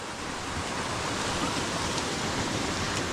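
A mountain stream rushes steadily at close range during a trek crossing from Panhala to Pavankhind, a dense, unbroken roar of flowing water with no voices.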